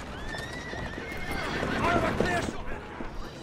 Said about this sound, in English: So whenever you drop a smoke bomb by a horse, it scares them and they start running away?